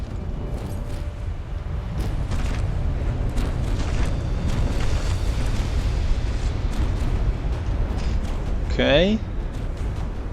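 A naval artillery volley in the game Dread Nautical, heard as a string of deep booming blasts and rumbling impacts mixed with a higher whistling shell sweep, while a voice talks over the action.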